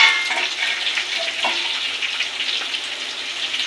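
Beef fries in hot oil in a pan, browned deep red, giving a steady bright sizzle with small crackles and pops, fairly close and loud, with no speech.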